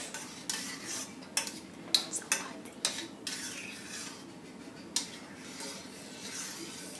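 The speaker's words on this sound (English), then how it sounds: "And I'm stirring it so it can melt." A utensil stirs a melting mango butter mixture in a pot on a stove, giving light metallic scrapes and taps at irregular intervals, close and fairly quiet, with no voices.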